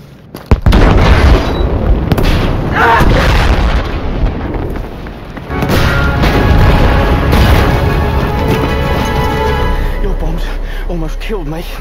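Bombs exploding in the Battlefield 5 war game, a sharp loud blast followed by rumbling booms and a second heavy explosion, with game dialogue and effects around them.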